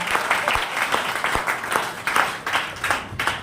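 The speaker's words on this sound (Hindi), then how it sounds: "अरे थोड़ी ताली बजा दो यार, इतना सीरियस क्यों बैठे हो?" Scattered, uneven clapping from a seated training-session audience, individual claps standing out in a loose irregular rhythm, fairly close and alone without talk.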